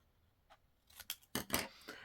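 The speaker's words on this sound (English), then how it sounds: "I'm going to go ahead and trim this at an angle." Scissors trim stamped craft paper at an angle, giving a few quick close snips, faint at first then a cluster of sharper cuts.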